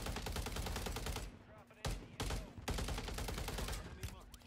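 Rapid automatic gunfire and bursts of shots in a shooter video game firefight, dense and continuous with brief pauses, fairly loud and close.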